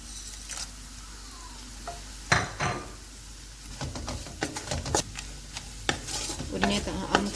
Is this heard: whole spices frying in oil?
yes